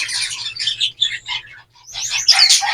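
Pet birds in a cage chirp, including a breeding pair: a male outside and a hen inside. Bright, close bursts of chirps and twitters come in clusters, with a brief pause before a louder flurry.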